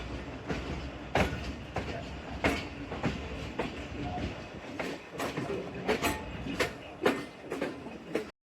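Train pulling out of Raiya Khas station on the Narowal railway section, heard from on board: rhythmic clickety-clack of wheels over rail joints with a rumbling carriage drone, moderately loud and steady.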